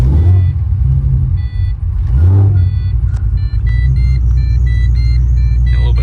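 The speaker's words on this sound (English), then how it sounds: "Belt squeal from the pressure washing, I guess." Supercharged Pontiac GTO running after a cold start, a loud steady low engine rumble with a high belt squeal chirping in repeated bursts over it, no talk.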